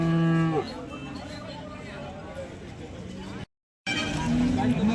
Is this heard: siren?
no